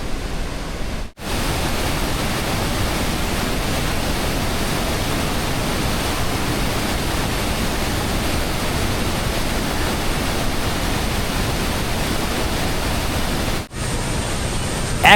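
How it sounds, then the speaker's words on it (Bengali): Water from the American Falls and Bridal Veil Falls at Niagara Falls crashes down in a loud, steady, broadband roar heard up close, with a brief dropout near the start and another near the end. "একদম ওপর থেকে আমেরিকান ফলস এবং ব্রাইডাল ফলসের জল নিচে এসে পড়ছে।"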